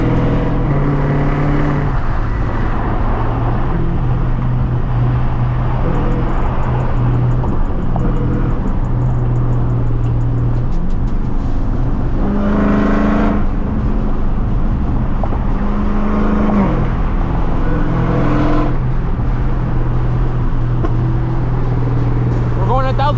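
A 1000 hp Dodge Hellcat Redeye accelerating hard, its loud engine droning continuously from inside the car with rising and falling pitch as it pulls, while people talk over it.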